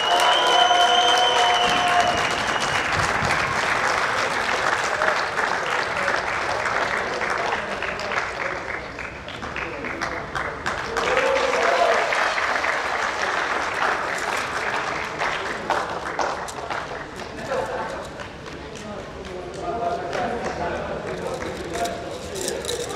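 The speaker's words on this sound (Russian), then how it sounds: "Еще раз, пожалуйста, давайте поаплодируем друг другу" An audience at an amateur mini-football tournament in Odesa applauds, with sustained clapping swelling and easing across the whole stretch while someone speaks over it through a PA.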